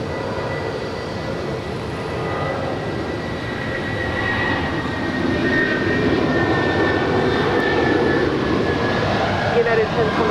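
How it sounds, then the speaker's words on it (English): A United Boeing 757-300 airliner bound for Detroit at Los Angeles airport, its engines roaring steadily and swelling gradually louder from a distance, with talk running over the noise. "up next is the United 757-300 heading to all places"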